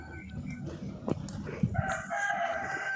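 A rooster crows once, a drawn-out tonal call rising from low background rumble and a few knocks, moderately close, with no one speaking.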